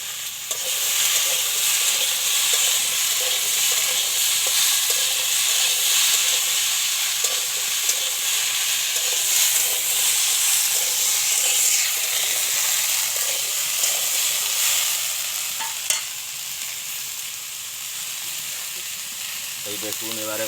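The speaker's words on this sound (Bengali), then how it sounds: "মশলা দিয়ে নেড়ে ছেড়ে নিচ্ছে।" Spices fry in a pan for a vegetarian pumpkin leaf chachchari, a constant loud sizzle with rhythmic stirring scrapes repeating steadily for about twenty seconds, and a final clatter near the end.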